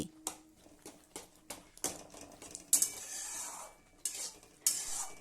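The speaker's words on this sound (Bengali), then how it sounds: "খুন্তি দিয়ে দিয়ে টমেটোটাকে খুব ভালোভাবে চেপে চেপে একদম মোলায়েম করে নিচ্ছি" A metal spatula presses and stirs tomatoes with turmeric in a pan for a sweet chutney, giving a run of close, irregular scraping knocks and soft sizzling bursts, with no talking.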